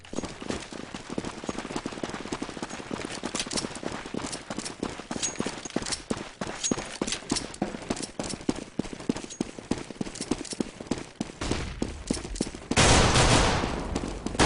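Rapid gunfire in a Counter-Strike match, a long stream of sharp, closely packed shots cracking at varying loudness, ending in a louder broadband burst near the close.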